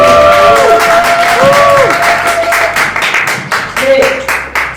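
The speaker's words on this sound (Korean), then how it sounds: "큰 박수로 환영하도록 하겠습니다" A community meeting audience in Ansan welcomes a secretary general with loud, close applause mixed with cheers and whoops, dense clapping that rises, holds and then gradually thins out.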